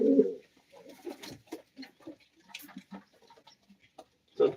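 Pigeons cooing at a pigeon loft, close soft coos in short bursts with quiet gaps, one louder coo at the start and another at the end.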